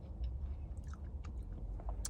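Close, quiet chewing of a Crumbl cookie, several soft crunchy bites and mouth clicks in an irregular rhythm over about two seconds, with no talking.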